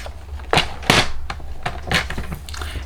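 Scissors or a paper trimmer cutting down cardstock for a fall-themed fold card with a pop-up panel, making a few close, crisp cutting snaps with quiet pauses between them.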